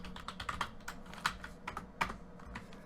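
Rapid, uneven keystrokes on a computer keyboard entering a Japanese kanji, with close, crisp clicks bunched in short bursts and no talking.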